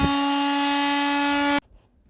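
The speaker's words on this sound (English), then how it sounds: "I'll try it with a little sander here," A small electric sander powered by an OUPES Mega 2 portable power station gives a loud, steady buzzing hum for about a second and a half, then cuts off abruptly to near silence.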